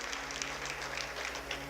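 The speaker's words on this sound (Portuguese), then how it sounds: "Você pode aplaudir a Jesus pela vida de quem está ao vivo com a gente?" Audience applause at a live evening church vigil service, heard as a faint, steady wash of clapping over low hum throughout, with no talk.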